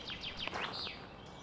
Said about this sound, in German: Das Zwitschern eines Vogels.